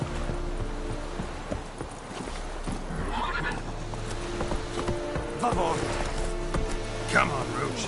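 Roach the horse in The Witcher 3 neighs and clip-clops along, a steady rhythmic hoof patter with whinnies rising midway and near the end, under ongoing game sound and some voice.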